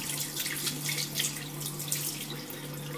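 Tap water runs steadily into a sink while makeup brushes are washed, a close, even rushing splash with small flickers of dripping and swirling, no talking.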